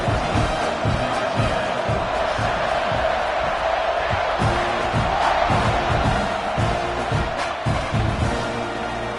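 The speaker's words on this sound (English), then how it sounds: "this crowd is buzzing after that last score" A football stadium crowd buzzes with a steady, loud roar and scattered cheers, filling the air continuously with a dense wash of voices right after a score.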